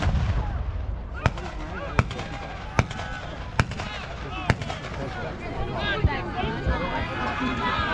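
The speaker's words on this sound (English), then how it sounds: "Those fast shooters down there are the Henry rifles." Henry rifles firing at a Civil War reenactment, the Battle at Narcoossee Mill, outdoors: about six sharp, fairly distant cracks at irregular intervals over crowd noise, with people talking nearby.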